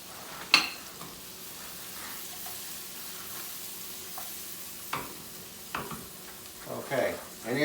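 Mushrooms and onions fry in a pan, a soft steady sizzle broken by a few sharp clicks and stirring scrapes, fairly quiet and close with no talk.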